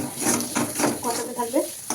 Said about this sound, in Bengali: এগুলো একসাথে ভালো করে কষাবে এইভাবে।